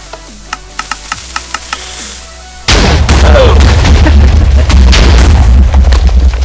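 Cannon fire in Minecraft with the Movecraft plugin: a series of sharp pops lands on a building, then a loud, sustained roar of explosions rumbles for several seconds as the structure is blown apart.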